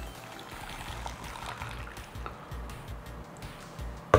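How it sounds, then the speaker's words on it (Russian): Boiling water poured into a cup of instant noodles, a close, continuous gurgling splash running steadily for about four seconds, with a sharp clatter at the very end. "Заливаем все кипятком."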